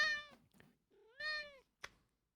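A house cat meows twice in two clear, rising harmonic calls, close and fairly loud, with small soft noises between them and a short sharp click near the end.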